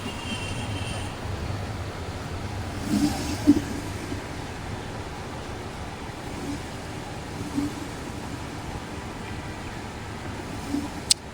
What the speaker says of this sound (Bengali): এই যে গাড়ি অলরেডি স্টার্ট হয়ে গেছে।